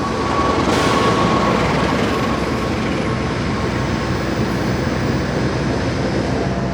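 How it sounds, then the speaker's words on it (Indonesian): An Indonesian passenger train, the Bima, rumbles steadily into the station platform at close range, loud broadband noise with a faint metallic squeal near the start. "di jalur 3 akan masuk kereta api Bima teman-teman"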